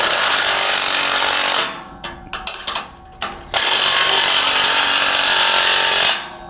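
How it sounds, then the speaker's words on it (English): An air impact tool drives a 3/4 inch socket onto a trailer coupler nut, loud sustained buzzing bursts broken by a cluster of quick rattling hits, then a long steady run. "I'll tighten this coupler right on."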